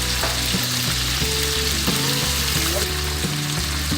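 Nigella seeds hitting hot oil in a pot, a loud, dense, steady sizzle and spatter heard up close for the whole moment.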